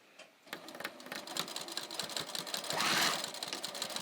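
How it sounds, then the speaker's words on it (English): A sewing machine runs continuously, stitching down the waistband of pull-on pants, its rapid needle rattle starting after a brief pause and holding steady and close throughout. "So just to hold it flat, I am just going to start by just sewing that down."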